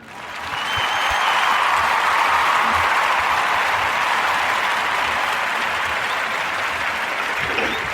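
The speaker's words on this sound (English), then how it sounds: "give a warm Narrative Podcast round of applause for Bessie Blunt and the feeding tube" Warm round of applause from a podcast audience swells up quickly and holds as a dense, even roar of many hands clapping, moderately loud and sustained for several seconds.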